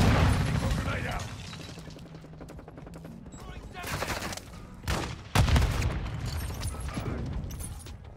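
Grenade blasts and gunfire in Call of Duty Modern Warfare II multiplayer, with a sharp explosive burst near the middle standing out from a dense, continuous bed of battle noise and a voice talking over it.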